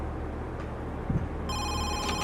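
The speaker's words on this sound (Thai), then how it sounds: "สายเข้าว่ะ" A mobile phone starts ringing with an incoming call, a bright repeating electronic ringtone that kicks in about halfway through over a low background hum, with no one talking.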